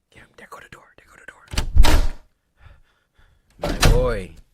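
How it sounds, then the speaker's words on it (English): A door in an animated horror short creaks and thumps open in two loud, distinct bursts separated by near silence, with whispered voices in between. "there go the door"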